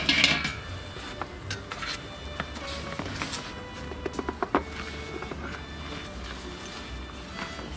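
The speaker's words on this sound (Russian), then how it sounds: "Ставим жарочную решеточку." A metal grill grate set down onto a barbecue grill made from an old boiler, giving a few clanking metallic knocks and rattles around the middle of the stretch, close by, over faint background insect buzz.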